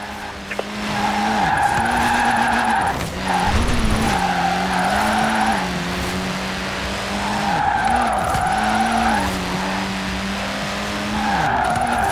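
In the Forza Horizon 4 racing game, a car drifts through a drift club event, its engine droning steadily while the tires squeal and skid in long repeated swells, loud and continuous, with no voices.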